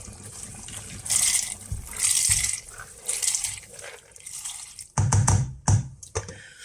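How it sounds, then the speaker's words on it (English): Dry lentils poured into a soup pot in a home kitchen, a few bursts of rattling pattering grains, followed by sharper knocks and clatter near the end, close up with no talk. "So now we add in the lentils."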